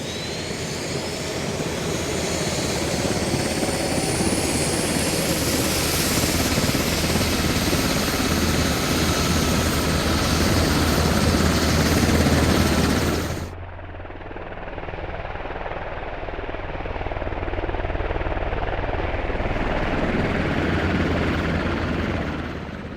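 A Blackhawk helicopter in the video game Squad approaching, its rotor thump and turbine whine swelling loud and close, then dropping sharply to a quieter, duller hum before building again.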